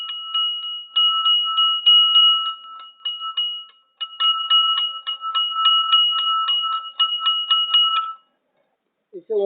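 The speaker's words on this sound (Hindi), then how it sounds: "इस घंटी का आवाज आएगा" Rapid, evenly spaced metallic bell strikes ringing in a long bright series, pausing briefly once, then stopping abruptly before a short sound at the end.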